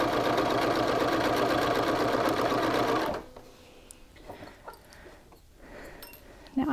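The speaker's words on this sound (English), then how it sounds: "And continue stitching." Sewing machine stitching a shirt collar runs steadily and loudly for about three seconds, then stops, leaving faint handling noises and quiet rustling.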